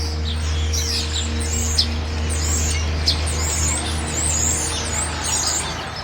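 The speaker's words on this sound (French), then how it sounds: "Les oiseaux ici, ils chantent pas pareil." Several birds sing and chirp in repeated short high calls beside an open stretch of river water, moderately distant, over a constant low rumbling hum of traffic or machinery.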